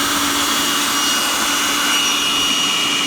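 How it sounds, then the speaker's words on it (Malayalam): A large suction machine draws smoke from many cigarettes burning at once, giving a steady, loud whooshing roar with a constant whine, like a big vacuum or blower running continuously with no talk. "അങ്ങനെ നമ്മൾ ഇച്ചിരി വലിയ മെഷീൻ വെച്ചിട്ടാ വലിച്ചു"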